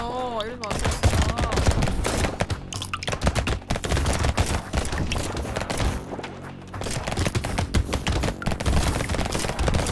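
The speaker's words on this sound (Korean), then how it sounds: "야 총소리 신난다." Dense, rapid gunfire and crashing impacts from the arena video game Brotato fill the whole stretch loudly and almost without pause, with a few voices mixed in underneath.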